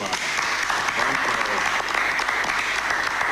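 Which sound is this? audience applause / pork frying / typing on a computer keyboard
audience applause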